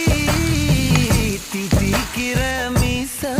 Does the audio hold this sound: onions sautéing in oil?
yes